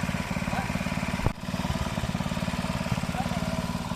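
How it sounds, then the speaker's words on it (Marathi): An old power tiller engine chugging near a muddy farm field, loud and close with a fast steady pulse, briefly dipping for a moment before carrying on evenly. "पॉवर टेलर जुना गरजेचा"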